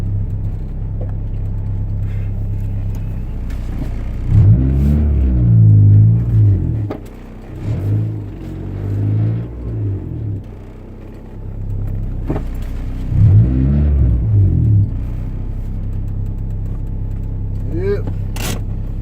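Inside a turbocharged Honda Integra, a loud engine rumbles, then revs hard in several bursts, its deep growl rising and falling over a steady idle.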